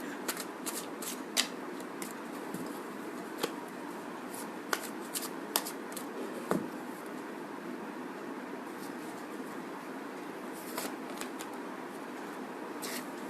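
A tarot card deck is shuffled by hand in a quiet room, producing a steady papery riffle with sharp snapping flicks scattered throughout, close and soft, with no speech.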